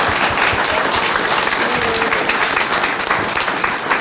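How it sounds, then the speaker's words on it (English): An audience at the Santa Fe Indian Market applauds the Growing Thunder Collective with sustained, dense clapping that stays loud and even throughout, with no voices standing out. "Can we give another round of applause to the Growing Thunder?"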